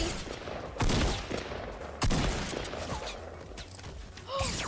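Pistol gunfire in the video game Fortnite, a few sharp shots spaced about a second apart, each cracking loudly and then trailing off, with mechanical clicks between them.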